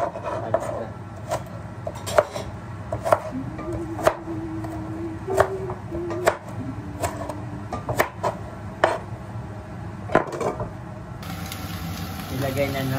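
A knife chops food into cubes on a board, sharp irregular taps repeating every half second or so, with people talking quietly underneath.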